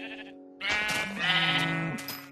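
Sheep in the Minecraft video game bleat in a couple of wavering, nasal calls, one short and one longer, fairly close and clear with no talk over them.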